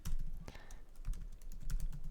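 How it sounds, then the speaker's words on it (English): Steady clicking of keys on a computer keyboard, a quick irregular patter of keystrokes picked up close in a quiet room, with no talking. "So this is a demo of me typing it in that way."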